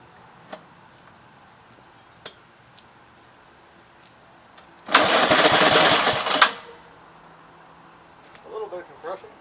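An old car engine cranks for about a second and a half in one loud, rough burst of starter churning without catching, set among crickets chirping and a few faint clicks, with a brief voice afterward.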